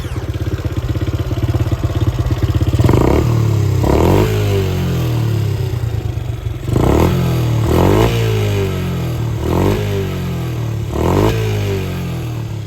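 A small Honda TRX70/90 youth quad ATV engine fitted with a quiet muffler idles with a rapid putter, then revs up and down several times in short bursts, fairly muffled and close by.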